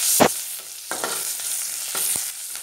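Onions, panch phoron and green chillies sizzle in leftover hot oil in a pan, a steady crackling fry broken by a few sharp stirring scrapes and clinks.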